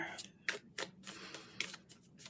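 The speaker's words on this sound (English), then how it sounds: "I think I'm just going to shuffle the cards" Moonology oracle deck shuffled by hand in short, separate bursts, six or seven soft papery swishes spaced evenly, faint and close with no talk.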